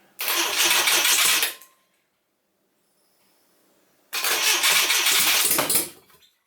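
A Citroen GS GSA with a 1.3 engine cranking and firing in two loud bursts of about a second and a half each, separated by a quiet pause of roughly two and a half seconds.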